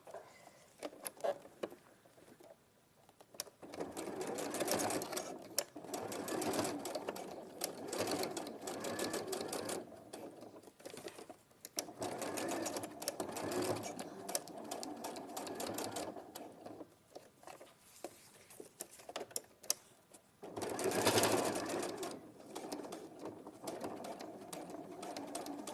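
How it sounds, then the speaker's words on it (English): Sewing machine running with a normal stitch and standard foot, top stitching square around a fabric piece, in long steady bursts with brief pauses between runs, close and clear, with no talk. "Then I'm gonna top stitch all the way square."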